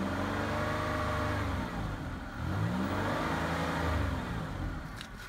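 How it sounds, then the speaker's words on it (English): A 1999 Buick Regal LS with automatic transmission revs under the open hood, its engine note rising and falling in two loud, close swells before easing back toward idle. "Go ahead and give it some gas if you can hear it."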